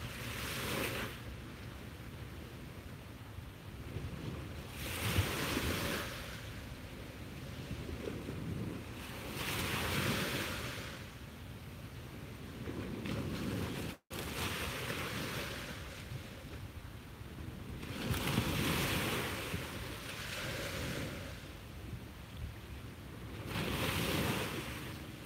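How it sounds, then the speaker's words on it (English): Ocean waves wash onto a beach at sunrise in slow, repeating surges every few seconds, each swell rising and fading, with steady wind noise over the microphone and no voices. "look out on the water, enjoy this magnificent view, listen to the waves"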